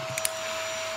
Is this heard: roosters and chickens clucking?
no